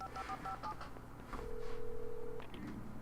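A telephone in the Alan Wake video game is dialed, with a quick run of keypad tones followed by a longer steady tone over quiet game ambience.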